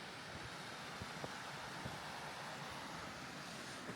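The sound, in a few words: small waterfalls on an Arkansas ATV trail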